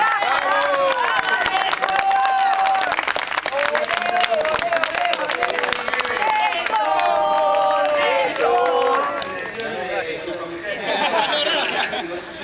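A dense outdoor crowd at a political rally in Parque Lezama claps and cheers for Néstor Kirchner, with steady applause mixed with shouts and overlapping voices that swell and then thin toward the end.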